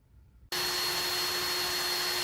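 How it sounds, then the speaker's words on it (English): A CNC machine drills through aluminum, bursting on after a brief quiet moment into a loud, steady, close whine with a sustained high tone that holds without letting up. "We just drilled straight through that whole thing?"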